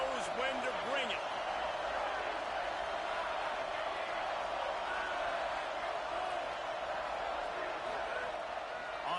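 Stadium crowd noise from an NCAA college football video game fills the scene as a steady, loud roar of cheering fans with no letup, a broad continuous wash from start to finish.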